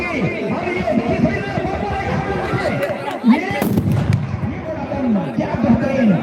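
Fireworks at an outdoor volleyball tournament, a few sharp bangs and crackles popping out over a loud, continuous crowd murmur and nearby talking.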